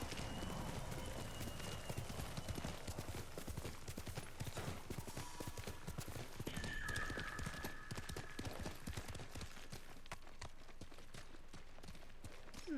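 Horse hooves galloping in the open-world samurai video game Ghost of Tsushima, a rapid steady clip-clop running throughout beneath faint background game sounds.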